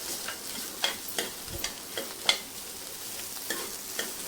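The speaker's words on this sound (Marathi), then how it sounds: "आणि खोबरं मिक्स करायचंय" A spoon stirs grated coconut into a frying spiny gourd vegetable dish in a pan, giving repeated close scraping strokes over a soft steady sizzle, with no talking.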